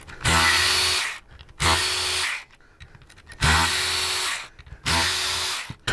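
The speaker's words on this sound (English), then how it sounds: "You've got 4 bolts here. Very easy. We're gonna remove those." A power tool spins out the headlight bracket bolts on a Harley-Davidson Street Bob during a fairing install, four loud bursts of whirring about a second each, split by short quiet gaps.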